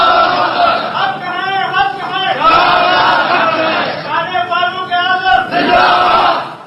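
A large crowd of men chants the Takbir slogan in loud, echoing unison, with the massed voices rising and falling in repeated waves and the full chorus heard twice.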